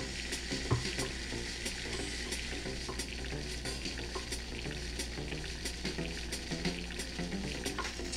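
Butter sizzles and fries in a pan in the Ratatouille Food Frenzy video game, a dense continuous crackle with quick stirring ticks and clicks running throughout, with no talk over it.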